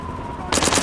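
Gunfire in Call to Arms - Gates of Hell, played with a Way to Warsaw 1939 siege mod. A loud, rapid burst breaks out abruptly after a brief quiet stretch.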